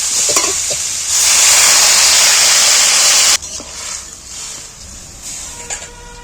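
Water is poured into a hot cooking pot of browned fish-head and Malabar spinach chhyachra, making a loud, rushing hiss for a couple of seconds that cuts off abruptly, followed by quieter bubbling and clatter.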